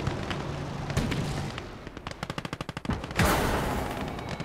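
Rapid gunfire and explosions from a WWII Eastern Front battle in the video game Gates of Hell: Ostfront, with a fast machine-gun burst of evenly spaced shots followed by a heavy boom amid constant battle noise.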